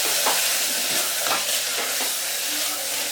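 Flat beans and brinjal cooked in a curry with garam masala and coriander-cumin, stirred in the pan, giving steady close frying and sizzle with a few scraping stir strokes, no talk.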